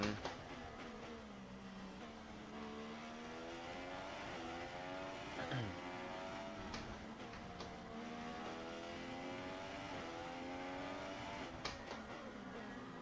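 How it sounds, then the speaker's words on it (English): A Formula 1 race car engine in the F1 2016 racing game, droning continuously at a faint level. The pitch rises through the revs and resets in several quick upshifts as the lap goes on. "the sound of the car is quite tinny"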